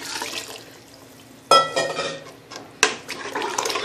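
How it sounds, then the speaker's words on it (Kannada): Water is poured into a cooking pot of vegetable pulao, a close splashing gush with a sudden surge partway through and another burst soon after, running unevenly throughout. "ಇವಾಗ ನೀರು ಹಾಕ್ತಾಯಿದ್ದೀನಿ."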